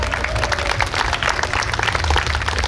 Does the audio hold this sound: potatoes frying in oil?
no